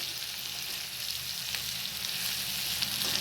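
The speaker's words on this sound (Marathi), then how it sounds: "तळून घ्यायचं. कांद्याला लाल चांगला होतोपर्यंत." Finely chopped onions frying in very hot oil, browning, with a dense, even hiss that stays loud and constant throughout, dotted with faint pops.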